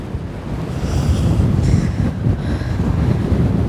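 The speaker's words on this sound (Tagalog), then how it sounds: "It's so windy." Strong wind buffets the microphone at the Chamantad viewpoint in Batanes, a loud, continuous low roar with gusty swells throughout and no voices.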